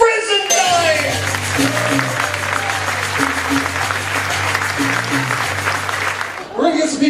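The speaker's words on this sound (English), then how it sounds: "how about a nice round of applause as we welcome to the stage the Magic Cat himself, Bob Brizendine!" Audience applause welcoming a magician billed as the Magic Cat onto a stage, a dense, steady wash of clapping that swells in after a brief lead-in, holds loud for several seconds under background music, then drops away near the end.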